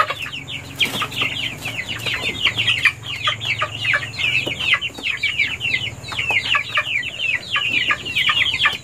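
Free-range village chickens in a small backyard flock of about 12 chickens and 6 Muscovy ducks in Indonesia, with rapid, overlapping clucks and chatter repeating continuously and fairly close, over a low steady hum.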